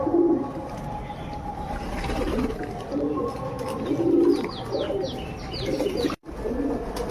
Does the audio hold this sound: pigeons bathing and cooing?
yes